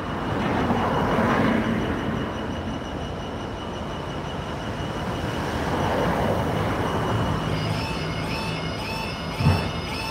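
Train approaching a level crossing at Great Northern Terrace, Sincil Bank, a broad steady rumble that swells and recedes over several seconds, with faint bell-like warning tones and a brief knock near the end.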